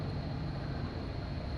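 A Chevrolet Biscayne engine idling, a steady, even low rumble with a faint broad whoosh, unchanging over a brief moment with no voices.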